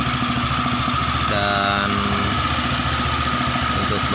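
Honda PCX 150 scooter engine idling unevenly during a tune-up, with its air filter removed: a close, steady mid-pitched mechanical thrum with a faint rattle and a brief tonal rise in the middle. A voice speaks briefly over it.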